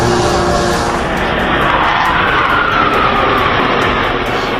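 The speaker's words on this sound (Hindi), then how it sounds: "डल लेक के एयर शो की शुरुआत में माइक्रोलाइट एयरक्राफ्ट उड़ा।" A two-seater microlight aircraft flying over Dal Lake at an air show in Srinagar, a loud, steady engine drone with broad rushing noise that holds constant throughout, no voices.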